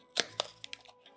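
Sony LinkBuds earbud box packaging being torn open by hand, several sharp crackling rips and tears of paper and card, separated by short pauses, close and fairly quiet.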